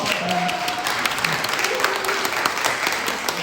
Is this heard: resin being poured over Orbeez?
no